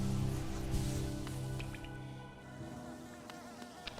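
Bees buzz in the video game Hollow Knight, a steady droning hum with faint clicks and drips scattered over it and no speech.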